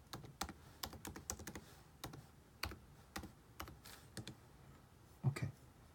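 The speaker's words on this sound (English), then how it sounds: "type the password" Keys clatter on a computer keyboard as a password is entered, a quiet close-up run of sharp clicks in uneven bursts with short pauses between them.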